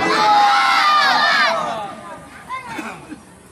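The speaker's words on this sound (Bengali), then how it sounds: "জোরে জোরে বল সুবহানাল্লাহ, আরো জোরে নাম তাকবীর" A large congregation at a Bengali Islamic sermon loudly chants Subhanallah and takbir together, a roaring surge of many voices for about a second and a half that then fades into scattered shouts.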